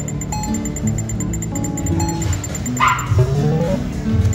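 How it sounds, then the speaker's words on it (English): Short dog barks and yips sound over a backdrop of electronic video poker machine chimes and tones, growing a bit louder toward the end as the dog comes closer. "Dog is getting closer, it's getting louder."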